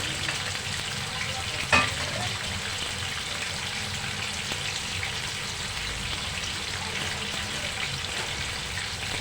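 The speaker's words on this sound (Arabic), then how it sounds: "نحمر مع بعض شويه مكرونه" Pasta frying in a pan gives a steady, close sizzle with soft stirring scrapes and one brief clank near the start, continuous and free of speech.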